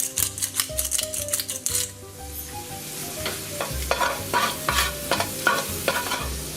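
Vegetables fry and sizzle in a pan while being stirred, producing repeated scraping strokes in a steady rhythm over a constant close sizzle, with no talking.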